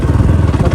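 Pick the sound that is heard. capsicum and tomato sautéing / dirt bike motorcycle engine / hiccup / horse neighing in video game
dirt bike motorcycle engine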